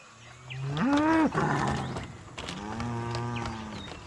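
A carabao (water buffalo) hauling a wooden sledge cart lows twice, each a loud, drawn-out, rising moo heard close up over faint rural background noise.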